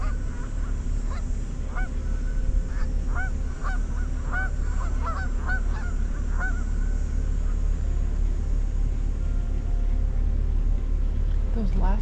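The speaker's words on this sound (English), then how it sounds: "Geese flew so close together," Geese honking repeatedly as they take off and fly away along a Trent Severn Waterway lock on a boat trip, calls fairly clear at first over a steady low engine rumble, then fading out.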